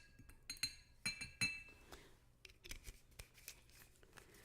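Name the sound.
drink being opened and poured into a glass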